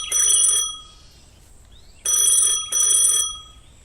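A telephone rings in three loud, electronic bursts separated by short pauses, with no voices.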